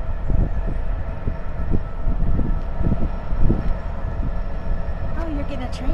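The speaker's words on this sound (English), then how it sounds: "Oh, you're getting a train too." A train passes nearby as a dense, steady rumble that fills the whole stretch, with voices mixed in underneath.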